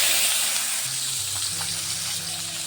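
Chapila fish hitting hot oil in a pan gives a continuous, close hissing sizzle that stays fairly even across a few seconds.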